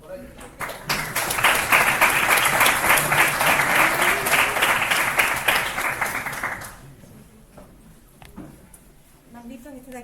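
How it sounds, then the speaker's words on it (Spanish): Audience applause fills a talk on technology and art, loud sustained clapping from a crowd lasting several seconds before fading out, followed by a speaking voice. "Así que un aplauso por ello."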